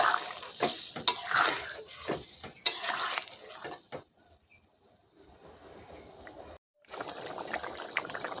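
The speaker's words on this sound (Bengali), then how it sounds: "ঢেলে দিয়ে আবারও একটু নাড়াচাড়া করে দেব।" Bottle gourd curry is stirred in a pan with snakehead fish cooking to follow, giving scraping spoon strokes, clinks and wet sloshing for the first few seconds, then a quiet sizzle, a sharp break and renewed bubbling.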